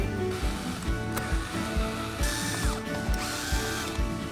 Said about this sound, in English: Now we're going to remove these 4 screws and move our control from the top of the unit to the side.